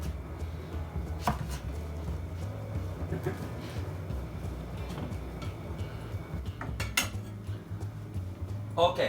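Vegetables being chopped on a cutting board for Japanese meat rolls, with irregular knife taps and occasional louder knocks, close by over a low background hum.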